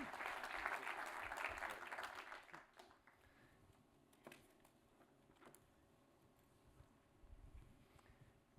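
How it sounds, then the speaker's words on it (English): Applause from an evening audience at a finance talk, loud and dense for the first two seconds, then thinning to scattered claps that fade out. "a big round of applause"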